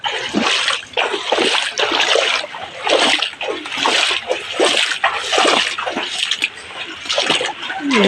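Floodwater splashing on a flooded cattle farm, loud, close and continuous, with repeated sloshing surges as something wades or moves through the water, and no clear talk.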